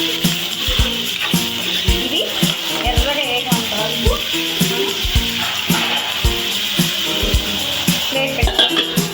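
Prawns with gongura leaves frying in a pan, a steady oily sizzle with repeated stirring knocks and scrapes, while someone talks over the cooking.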